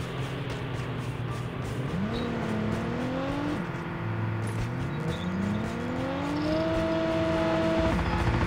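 A rally car engine in a video game drones close and steady, its pitch sliding up through gears and dropping between shifts, with a continuous rumbling hum underneath.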